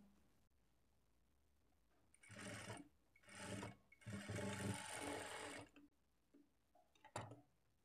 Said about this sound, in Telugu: ఈ ఎక్స్ట్రా క్లాత్ని ఇలా ఫోల్డ్ చేసుకొని ఈ విధంగా స్టిచ్ చేసుకోవాలి.